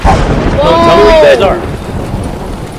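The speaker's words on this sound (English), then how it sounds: "Where'd this rain come from?" In a Roblox horror game, rain pours down while thunder rumbles in a loud roll that swells and then fades into steady rainfall.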